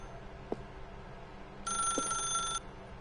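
A telephone rings in The Stanley Parable video game, a short loud electronic ring lasting about a second, set against a quiet room tone with a couple of faint soft knocks before and after.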